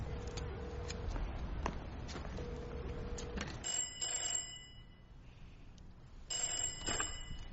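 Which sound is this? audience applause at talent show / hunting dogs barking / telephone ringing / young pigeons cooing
telephone ringing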